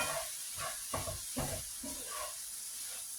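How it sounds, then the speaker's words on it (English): A steady hiss of food sizzling in a hot pan, fairly faint, with soft clatters and muffled sounds over it. "That is sizzling away."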